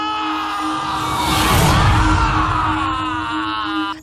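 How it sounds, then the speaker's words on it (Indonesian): A person jolts awake from a nightmare with a loud, shrill scream that swells into a sustained cry over a few seconds, close and intense, before cutting off abruptly. "Emrah terbangun dengan teriakan yang melengking"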